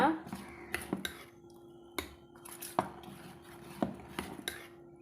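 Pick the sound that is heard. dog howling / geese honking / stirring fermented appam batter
stirring fermented appam batter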